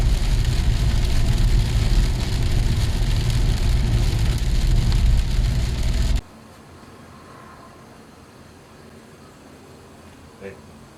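Rain drums on a car in a steady, dense hiss for about six seconds, then stops abruptly, leaving quiet cabin hum with a faint knock near the end.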